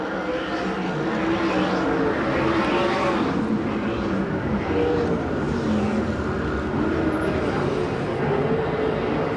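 USAC/CRA sprint cars race around the Perris, California track, a steady, loud blend of engine drone that rises and falls as the cars circle, with an announcer's voice running over it throughout.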